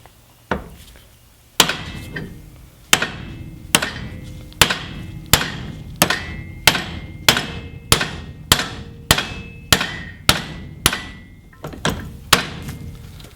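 Loud metallic hammer strikes on a U-joint cap held in a vise ring out in a steady rhythm, about fifteen blows spaced roughly every second, each with a sharp crack and brief ringing decay.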